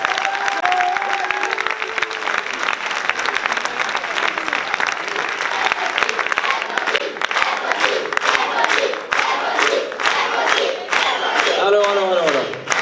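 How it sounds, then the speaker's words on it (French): Loud, sustained applause with cheers and shouts greets a children's choir after an Easter cantata performance, clapping steady throughout with voices rising over it and a few louder whoops near the end. "Je vous demande d'applaudir encore une fois ces enfants qui sont exceptionnels, ces adultes incroyables."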